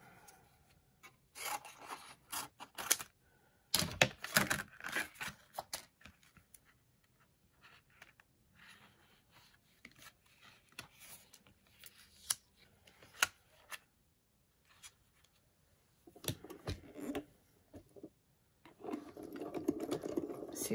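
Scissors cutting through paper for a small square craft piece, in several bursts of dry rasping snips with quiet pauses between, close and fairly loud.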